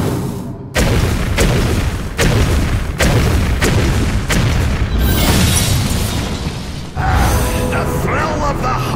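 Repeated booming explosions from Hearthstone: Heroes of Warcraft, the card game, sounding as a series of loud, heavy blasts about every second with a brief gap before the last one.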